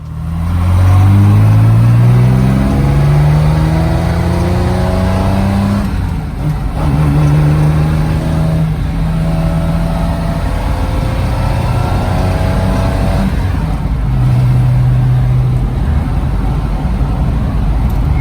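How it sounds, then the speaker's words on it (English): A 1961 Aston Martin DB4 Series III drives on the road, its engine loud and close, rising in pitch through repeated accelerations with brief dips at gear changes. "Let's see how that engine performs now in 2023 by taking it for a drive."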